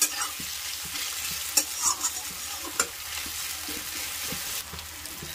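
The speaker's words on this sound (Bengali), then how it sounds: "দুটো মিডিয়াম সাইজের পেঁয়াজ কুচি দিয়ে দিচ্ছি। ভেজে নেব।" Two medium chopped onions fry in a pan with a steady close sizzle of oil, broken by occasional scraping stirs of a spatula, with no talking.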